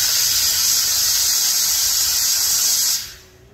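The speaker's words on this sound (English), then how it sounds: "On the bottom of the steam wand there's four little holes that the steam comes out." An espresso machine steam wand with a four-hole tip blasts a loud, steady high-pitched hiss for about three seconds, then cuts off sharply and fades to quiet.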